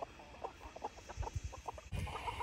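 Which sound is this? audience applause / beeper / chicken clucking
chicken clucking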